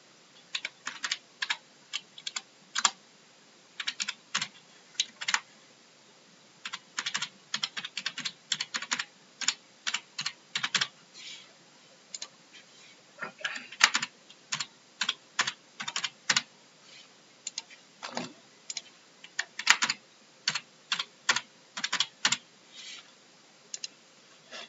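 Quick bursts of clicking keystrokes on a computer keyboard, typed in irregular runs with short pauses between, close and fairly quiet, with no talk.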